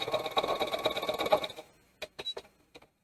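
A sewing machine stitches quilt block fabric pieces together, a busy close whir for about a second and a half, then falls quiet apart from a few brief clicks and taps.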